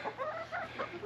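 Chickens on a homestead clucking softly in a brief run of quiet, close-by calls over low background hum.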